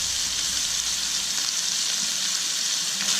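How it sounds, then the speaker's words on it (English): Minced meat sizzles in a frying pan for a Bolognese sauce, a continuous close, loud hissing crackle with small spits and pops and no talking. "you guys hear that sizzle?"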